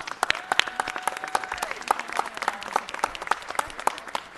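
Applause from a crowd at a city council meeting, steady clapping throughout that carries on at an even level for a few seconds.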